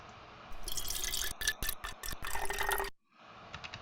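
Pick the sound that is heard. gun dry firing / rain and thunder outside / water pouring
water pouring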